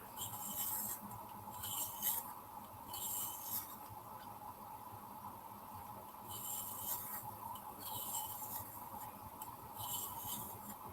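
A pencil is sharpened during a coloring session, giving repeated short rasping, scraping bursts in a steady rhythm, close and moderately quiet, with a faint continuous hum underneath.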